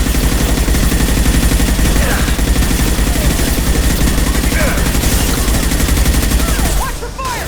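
Sustained heavy automatic gunfire in the Mass Effect video game, dense rapid bursts from several weapons filling the whole stretch, loud and continuous, with a brief drop near the end and faint voices mixed in.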